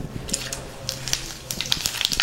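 Spices for tempering hiss and crackle sharply as they hit hot oil in a pan for a tomato curry. The sizzle is close, busy and continuous, with dense popping throughout the short stretch.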